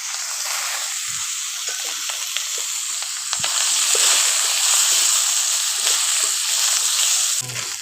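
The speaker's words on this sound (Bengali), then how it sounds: "এখন আদাটা ভাজা হয়ে গেছে, এর মধ্যে আলুগুলো দিয়ে দিচ্ছি। আলুগুলোকে একটু কষে নেব।" Potatoes sizzle in hot oil with fried ginger paste, a steady hiss that grows louder partway through, with faint stirring clinks and no voices.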